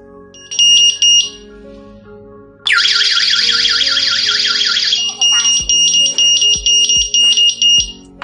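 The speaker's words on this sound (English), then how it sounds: "When the alarm is triggered, it can conduct on-site alarm through sound and light" A Secureye gas and smoke detector sounds a loud, piercing electronic alarm: short beeping bursts, then a continuous warbling siren, then rapid repeated beeps, close and alone.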